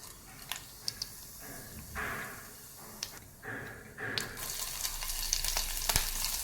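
Cumin seeds frying in a spoonful of oil in a kadhai for onion paratha, a faint crackling sizzle with soft popping and a few light spoon taps, swelling louder toward the end.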